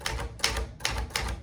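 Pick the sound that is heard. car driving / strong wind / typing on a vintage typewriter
typing on a vintage typewriter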